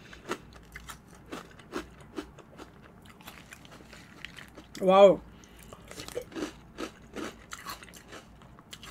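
A crunchy chocolate snack is chewed close up in a steady run of crisp bites and crunches, broken once by a short voiced exclamation.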